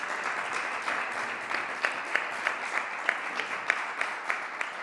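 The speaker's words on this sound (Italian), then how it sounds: "Anche per lei spero che giunga l'applauso della sala. Sì, è arrivato" A hall audience applauds after a panel talk on sports betting, a steady wash of clapping with a few sharper claps standing out, close and moderately loud, no voices.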